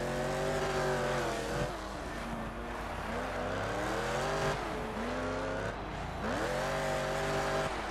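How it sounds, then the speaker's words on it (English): A rally car wheelspins in second gear off-road in Colin McRae Dirt 2, the engine droning loudly at high revs with rising and falling pitch sweeps as it struggles for grip. "We are wheel spinning in second gear off-road"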